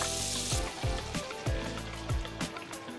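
Food sizzles and fries steadily in a pan while preparing a Christmas menu, with a dense crackling hiss and repeated scraping thumps from stirring, close and continuous.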